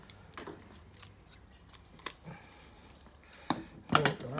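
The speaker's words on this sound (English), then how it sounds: "You can see all the bones that we've cut. That's what we're cutting through" Duck bones being cut while spatchcocking the bird, a few sharp crunching snips spaced apart, the last ones loudest, close and otherwise quiet with no talking.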